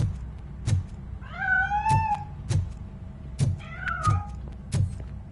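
A cat in the RoboCop video game meows repeatedly, drawn-out wavering cries over a low rumbling backdrop with several sharp thuds at intervals.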